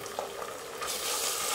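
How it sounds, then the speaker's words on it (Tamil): Ginger garlic paste frying in a pan for a two-person dum biryani, a steady close sizzle that swells louder and brighter about halfway through, with no talk over it. "இஞ்சி பூண்டு பேஸ்ட்டு போடுறேன்"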